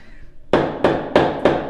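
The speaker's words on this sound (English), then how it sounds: "Definitely the hammer. Definitely the hammer, yes." A hammer strikes a hard surface four times in a steady rhythm, each blow sharp, close and loud, with a faint quiet tone before the first hit.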